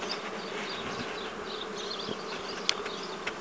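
Honeybee swarm at an apiary buzzing steadily and densely throughout, a continuous mid-distance hum of many wings with a few brief louder passes near the end.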